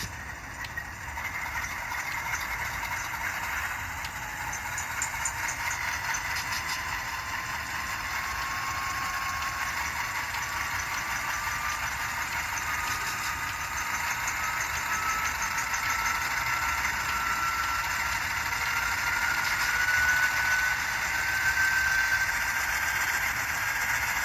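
A Bachmann N scale CSX CW40-8 diesel model's sound decoder holds a steady, buzzy engine drone that slowly climbs in pitch as it notches up, continuous and unbroken with no talking.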